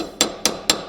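A brass hammer strikes a wheel hub on a 2001-2005 Honda Civic during a wheel bearing job, three sharp metallic blows evenly spaced, close and loud, with no talk.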